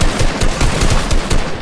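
Loud, close automatic fire from a Scorpion assault rifle in a video game, a rapid, steady stream of shots with regular pulsing rhythm and no talk.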